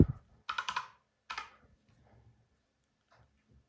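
A computer keyboard clicks in short bursts of quick keystrokes with quiet pauses between them, heard close up in an otherwise silent room.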